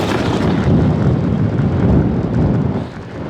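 Strong wind gusting on a steep ski chairlift, the Slidebrook Express at Sugarbush, Vermont, roars as a loud, continuous low rumble of buffeting against the microphone, easing slightly near the end.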